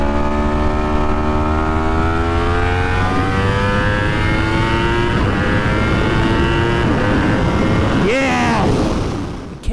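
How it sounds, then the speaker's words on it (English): A Yamaha R1 inline-four motorcycle engine holds a high, smooth rev that climbs gradually, then blips sharply near the end before cutting off; loud and close, alone without talk. "it is the best-sounding inline 4 to ever live in a motorcycle"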